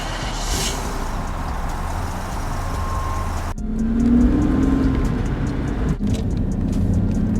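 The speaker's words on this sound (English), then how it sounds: "it doesn't like to have a smooth idle when it's warmed up" A BMW E31's engine idles loudly and unsteadily when warmed up, freshly fitted mufflers, its droning hum shifting abruptly in tone a couple of times.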